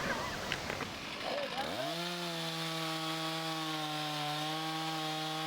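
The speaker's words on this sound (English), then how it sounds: "running his 460 steel, dropping a large aspen tree. He's cutting into the tree" A Stihl 460 chainsaw cutting into a large aspen tree during backyard logging, the engine holding a loud, steady high-revving drone after a brief noisy start.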